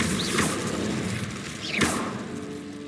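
A fire spell cast in Hogwarts Legacy, a wizarding video game set in a cave, heard as two loud whooshing bursts a little more than a second apart over steady ambient game noise.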